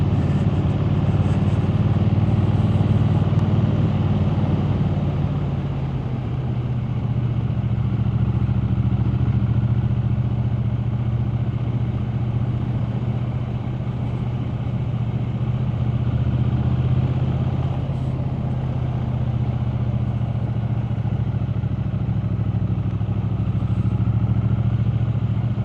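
A Triumph Speed Twin 900 motorcycle is ridden at steady speed, its engine a continuous low, even drone with wind rush, loud and close throughout without talk.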